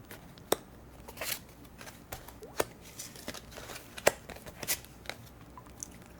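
Soft, scattered crisp snaps and rustles of tarot cards being picked out and handled, quiet and close with irregular sharp clicks against a faint background.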